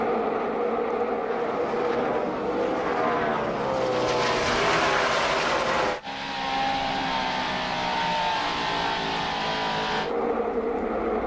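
NASCAR stock cars racing at Pocono in the 2009 Pocono 500, a continuous loud engine roar with pitch sweeping as cars pass in a tight draft, a brief dip midway, then sustained droning from distant-to-near cars.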